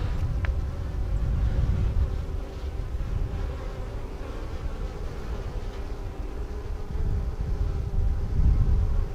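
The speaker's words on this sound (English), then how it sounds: "there's two kinds of bees around here" Honey bees buzzing around a backyard hive, a continuous low droning hum that stays fairly steady, close and moderately loud.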